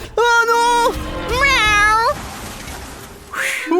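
A cat gives two loud, drawn-out meows close by, one after the other with a short pause between, followed by a brief scuffling noise; it may be a voice imitating the cat.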